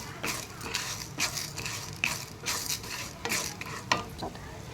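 Chana dal, coriander seeds and cumin dry-roast in a pan, the dry grains rattling and scraping in repeated stirring strokes roughly every second, close and moderately loud.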